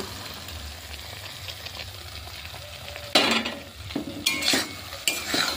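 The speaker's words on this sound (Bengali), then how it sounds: "মশলা আলু পেঁয়াজ আমি ভালো করে কষিয়ে নেব। কষানোর সময়তেই আমি সেই ভেজে রাখা গেঁড়িগুলো দিয়ে দেব।" Snails stir-fried in a pan with potato, onion and spice masala give off a low steady sizzle, then a spoon scrapes and churns the mixture in loud bursts.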